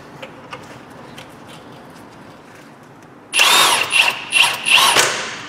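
A power tool whirs in several short, loud bursts while tightening the strut top nut on a Ford Mondeo MK4 front suspension strut, following a quiet stretch of workshop background.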